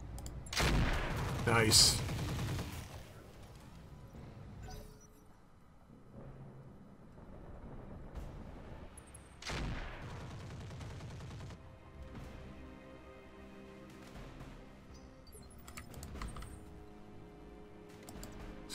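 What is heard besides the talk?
weapons fire in the video game Roguetech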